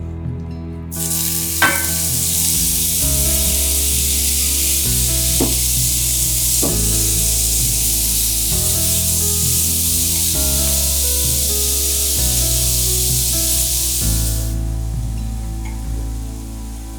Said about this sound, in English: heat some olive oil in a cast iron skillet over medium heat and cook the shrimp